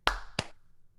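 Two sharp, close hand claps about a third of a second apart, the first louder, in a quiet room before a recording begins.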